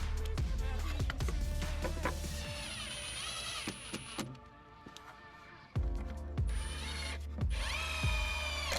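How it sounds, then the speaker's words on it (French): A cordless drill drives screws through one wooden board into the end of another, whirring in short bursts with pauses between and a ratcheting clutch at times, with no talk. "Nous attachons les deux planches l'une à l'autre, simplement en vissant dans la tête de la planche."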